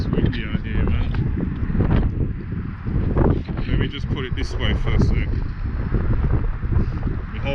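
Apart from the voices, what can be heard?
wind blowing outdoors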